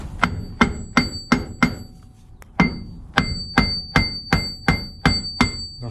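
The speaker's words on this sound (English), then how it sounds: "And then we'll beat her with a hammer." A hammer repeatedly strikes the seized gearbox shaft of a DUKW amphibious vehicle, which is stuck in reverse, with sharp close metallic blows at a steady rhythm, a short pause partway through, then more evenly spaced strikes.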